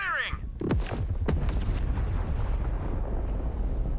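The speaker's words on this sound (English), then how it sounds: "That was a big kaboom." A booming explosion in Borderlands 3 erupts loudly up close after a few sharp whooshing blasts, then rumbles and crackles on in a long noisy tail, with speech mixed in.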